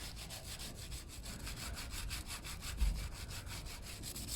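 Sandpaper is rubbed by hand over the painted bodywork of a Yamaha Thundercat 600cc motorcycle, a faint, quick run of rhythmic scratching back-and-forth strokes, steady and close, with no talking.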